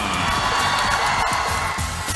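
Ginebra basketball fans fill an arena with continuous loud cheering and shouting, voices of young and old blending into a dense, rhythmic roar.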